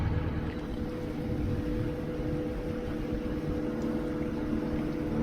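A sailing yacht motors under engine power along the Turkish Riviera, a steady low diesel drone and hull rumble continuing evenly throughout, with no voices.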